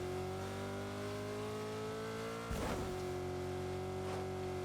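A car in Fortnite hums along with a steady engine drone and faint revving, holding an even tone with a brief thump partway through and no talk over it.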